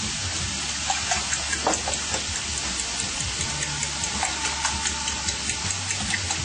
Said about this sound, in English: Put a little water in there.